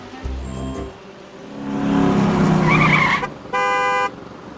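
Racing vehicle in Bee Movie Game for PC, a loud engine revving up and whining with a tire skid, followed by a short horn-like toot near the end.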